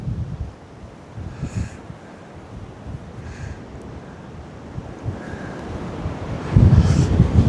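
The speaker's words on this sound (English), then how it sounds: "I'm gonna have to hold this because it's so windy" Strong wind buffets the microphone outdoors beside a fishing lake, a steady low roar that surges louder toward the end, with faint lapping water underneath and no talk.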